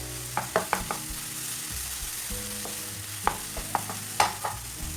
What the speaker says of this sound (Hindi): कच्चे आम कद्दूकस किए हुए, दो मिनट तक भून लेंगे।